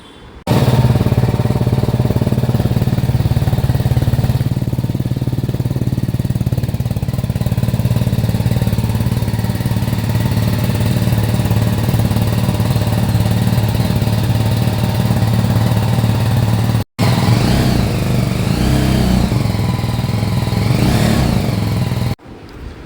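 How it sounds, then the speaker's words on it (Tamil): A BMW 310 GS motorcycle exhaust note holds loud and close for about twenty seconds, a steady low engine rumble that rises and falls with revving, briefly cut by a dropout near the end. "இந்த பைக்லேயே பிடிச்சது இந்த எக்ஸாஸ்ட் நோட்டு தாங்க"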